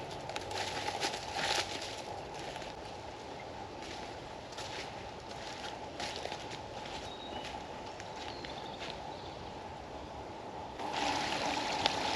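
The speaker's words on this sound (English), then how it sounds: "There's this little brook that's going past, so the sound of the" A small brook runs past outdoors at a wooded campsite, a steady broadband wash of flowing water that holds evenly throughout, with faint bird calls and a few soft rustles or steps over it.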